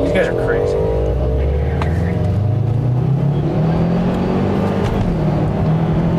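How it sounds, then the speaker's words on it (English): A Dodge Neon SRT4 and a Pontiac G8 racing at night, engines revving and rising in pitch as they accelerate hard, loud and close, with excited voices talking over the engine roar. "Oh, we're racing an SRT4!"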